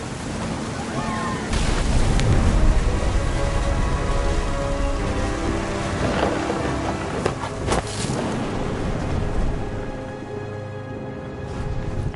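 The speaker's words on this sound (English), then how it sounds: "Thunder sounded much too close and full of angry power" Rain and rumbling storm noise in the game What Remains of Edith Finch, a steady dense wash of falling water with low swells and a few brief cracks, fairly loud, easing toward the end.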